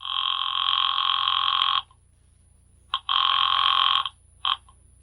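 An old-style telephone bell rings in a 1974 CBS mystery radio drama: one long loud ring, a pause, then a second long ring and a brief third burst, clear and close.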